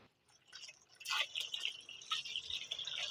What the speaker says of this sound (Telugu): నేను కళాయిలో పాలు అయితే పోస్తున్నాను